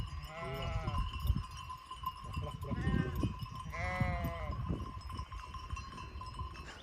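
Several sheep bleat repeatedly nearby in overlapping calls, with a bell ringing faintly and soft background noise of an open field.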